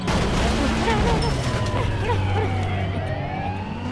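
Police sirens wail in a mobile bike-driving police escape game. Several wavering siren tones overlap above a steady engine drone, loud and continuous, as a player talks excitedly over them.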